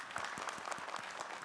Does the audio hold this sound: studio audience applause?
yes